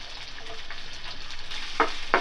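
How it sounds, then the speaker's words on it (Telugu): Onions, cumin and mustard seeds fry in oil for poha upma, giving a soft, steady sizzle with a couple of brief sharper crackles near the end, fairly quiet and close. "వీటన్నిటిని రెండు నిమిషాలు దూరగా వేయించుకోవాలి"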